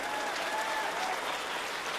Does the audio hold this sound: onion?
no